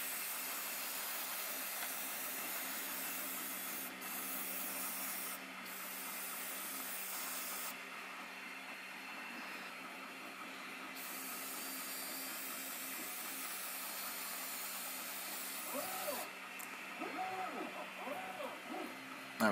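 Continuous airbrush or spray-can hiss as a slightly heavier coat of paint goes onto a robot figure model, steady and close throughout with brief dips in the spray.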